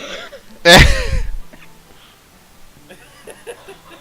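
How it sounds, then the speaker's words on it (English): A single sharp cough from a woman bursts out near the start, followed by quieter shuffling and faint background sounds. "I think she's just coughing."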